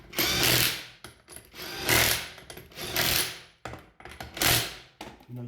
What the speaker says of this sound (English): if you have an impact gun,